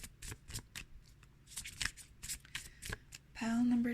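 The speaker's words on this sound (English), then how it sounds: "I'm going to keep shuffling." Tarot cards are shuffled by hand in a series of soft, quick riffles and flicks, close and quiet, ending in a louder burst of shuffling.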